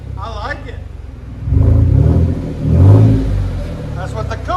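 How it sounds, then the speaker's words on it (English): Close-up revving from a Chevy Silverado with a 4.3 V6 and Kooks exhaust: two deep throttle blips rise from a low idle and swell into a throaty rumble, with a person talking briefly at the start and end. "That's what the Kooks exhaust sounds like."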